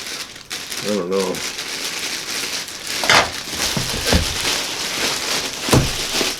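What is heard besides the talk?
cutting open a sealed plastic heatsink bag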